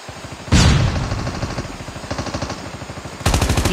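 Rapid automatic gunfire in a battle royale shooter game, a loud sustained burst of repeated shots, a brief lull, then another close, heavy volley toward the end.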